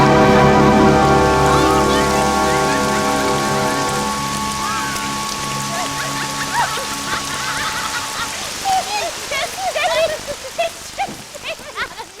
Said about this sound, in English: a little rain was just what we needed